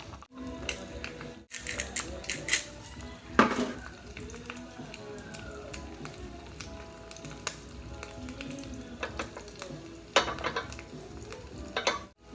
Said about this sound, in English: I want it to be slightly fried on the bottom, so that's why I heated it up a good amount before putting the egg on.